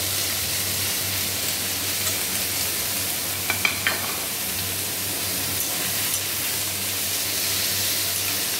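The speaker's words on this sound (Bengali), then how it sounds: "আলু আর রসুনের সাথে পেঁয়াজটা ভালোভাবে মিশিয়ে নেব।" Onion, potato and garlic sizzle steadily in hot oil in a pan on medium flame, a constant hiss with a brief clatter of stirring midway and no voices.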